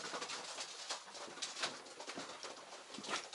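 Pigeons kept in a backyard racing loft give off faint, soft cooing and rustling, quiet and diffuse with no clear individual calls.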